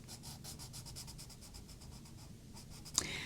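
Colored pencils scratch across a coloring book page in quick, rhythmic back-and-forth strokes, soft and close, ending with a brief louder tap.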